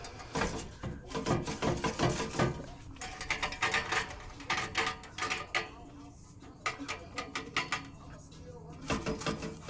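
A hand ratchet clicks in quick rapid bursts while bolts are removed from a Ford Mustang S650 during header work, the close, crisp ratcheting repeating in short runs with pauses between.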